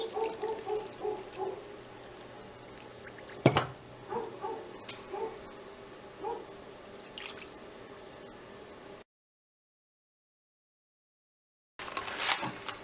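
Water poured from an emptied sauce jar into pasta sauce for a beef and noodle casserole, giving close, soft splashing and dripping with small bubbly gurgles, then a pause of silence and a brief return of splashing.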